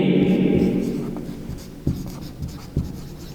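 Pen or marker writing out problem data on a board during a Class 11 maths lecture, a steady scratchy stroke sound with a few sharp taps as letters are finished, close and alone without talk.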